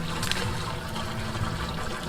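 River water being poured steadily into a homemade free energy water pump, a continuous close gushing and trickling fill with no break and no voices.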